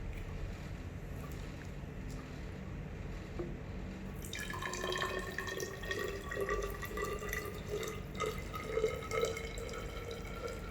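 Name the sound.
pouring 3% hydrogen peroxide into ethanol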